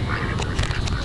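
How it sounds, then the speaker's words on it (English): Ducks at a park, close up, with a busy bed of outdoor noise and a few faint quack-like calls rising through it. "Look how close I am to this duck."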